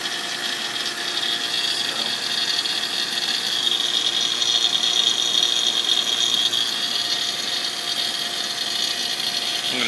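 A vacuum pump evacuates an HVAC system on a service call, running as a loud, steady, whining mechanical drone that stays constant from start to finish, with no voices.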